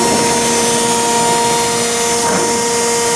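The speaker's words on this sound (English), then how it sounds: "16 by 28 Chevalier horizontal surface grinder." A Chevalier 1628AD horizontal surface grinder, 16 by 28 inch, runs steadily with a constant machine whine and broadband hum, alone without talk, holding an even level with a slight shift near the end.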